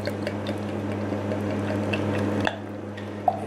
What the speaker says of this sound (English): So the beer's pouring out, as you'd expect, a nice black IPA